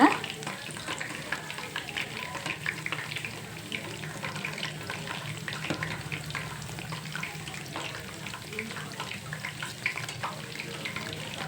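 Chana dal vada fry in hot oil as they are turned, giving a steady, fairly faint bubbling sizzle with small crackles and no talking.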